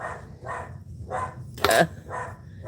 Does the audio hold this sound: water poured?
no